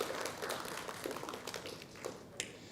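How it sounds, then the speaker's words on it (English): An audience at a language festival talk in Nagaland gives faint, scattered clapping, with a handful of light, irregular claps and taps over a quiet room. "You may give a round of applause"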